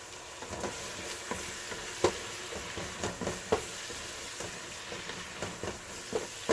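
Oil sizzles steadily in a pan for spaghetti sauce, Old Bay seasoning already shaken in, a constant frying hiss broken by scattered sharp pops and the clink of a stirring utensil, with no one talking.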